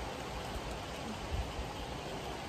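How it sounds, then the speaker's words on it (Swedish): Light rain falls steadily outside a caravan under renovation, a soft, even hiss that stays faint and continuous with no voices. "Men nu är det lite mer normalt regn i alla fall."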